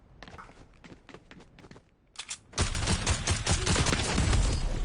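Rapid-fire bursts of gunfire from a heavy rotary minigun in Fortnite, first sparse crackling shots, then a sustained loud roar of continuous fire.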